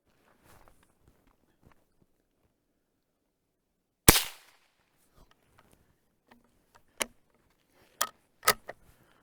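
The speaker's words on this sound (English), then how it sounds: "let's see how it shoots" A Cooey Model 600 bolt-action .22 rifle fires one sharp, close crack, followed by several lighter metallic clicks and clacks of the bolt being worked.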